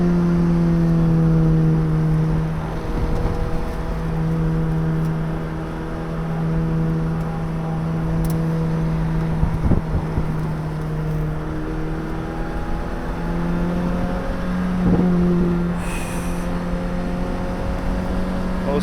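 Car engine droning steadily from inside as it drives a winding road, pitch rising and falling with acceleration and shifts, loud and continuous with no talk.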